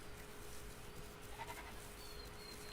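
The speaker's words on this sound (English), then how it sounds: "And I do hear a goat." A goat bleats faintly in the distance within the survival game The Isle, a brief call set against a steady ambient background with no speech.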